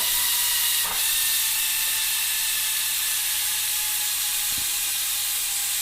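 Steady high-pitched hissing whistle of steam from a pressure cooker cooking fish, loud and continuous throughout with a faint low hum beneath and a couple of brief clicks.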